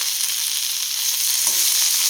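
Chopped tomato drops into a hot pan of egg curry base with oil and salt and is stirred, giving a steady, close crackling sizzle with no one talking.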